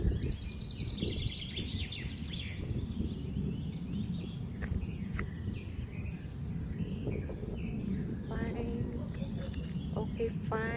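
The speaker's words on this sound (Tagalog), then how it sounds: "Kita ko lang sa inyo, puro ibon." Birds calling outdoors in the hills of Tagaytay, with scattered chirps and tweets over a low background hum, while people talk nearby.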